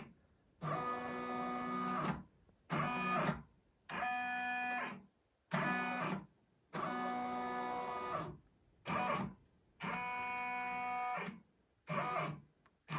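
An embroidery machine runs in a series of loud mechanical bursts, each whirring for about one to two seconds before brief pauses, repeating steadily and close up.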